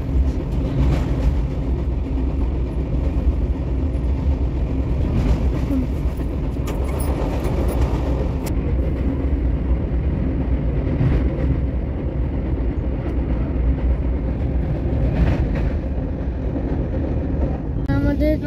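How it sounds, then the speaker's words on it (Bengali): Howrah-Mysuru Weekly Express crossing the two-kilometre double-decker Godavari rail bridge, heard from on board as a continuous loud rumble and rattle of wheels with rhythmic clanks, and faint voices at times. "আমাদের ট্রেন 3 মিনিট 10 সেকেন্ডে পুরো এই রাধামন্দির মানে গোদাবরী ব্রিজটাকে কভার করেছে।"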